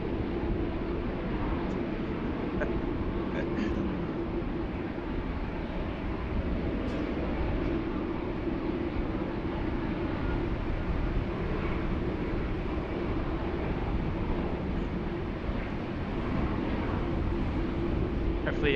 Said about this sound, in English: Hopefully you guys can hear that nice engine start up there just a moment ago. Beautiful spool up.